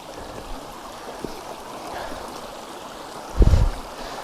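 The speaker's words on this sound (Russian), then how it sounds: "Вот такой красивый ручеек." A small forest stream with peat-tinted water runs through untouched woodland, giving a steady soft gurgle and trickle. A brief low thump near the end rises over the flow.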